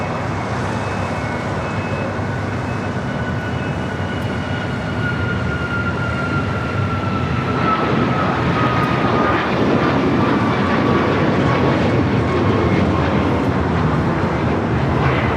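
A United Airlines Boeing 737 MAX 9 takes off from LAX, its jet engines a loud, steady roar with a rising whine that grows more intense as the aircraft spools up and departs.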